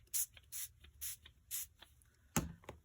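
Glimmer mist sprays onto an art journal page in four short, even hissing bursts from a pump bottle, followed by a sharper clack and a brief extra spritz, all close and fairly quiet.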